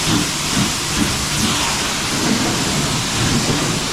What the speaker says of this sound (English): Now we just need to spray it all with tire shine.